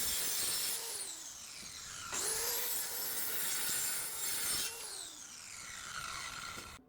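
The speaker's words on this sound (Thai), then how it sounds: "มาทดลองตัด 45 องศากับไม้อัดกันดูบ้างค่ะ" A Pumpkin J-C5820 7-inch circular saw makes a 45-degree bevel cut through plywood. Three rising blade whines each settle into a grinding cut, then the motor spins down at the end, with no talk.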